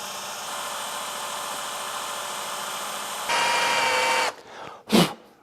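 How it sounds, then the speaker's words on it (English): Small drill bit boring a centring hole into a VW Beetle axle, a steady whining drone that jumps louder and higher partway through, then stops with a few brief knocks and a short burst at the end. "I'm going to centre it with a smaller drill first"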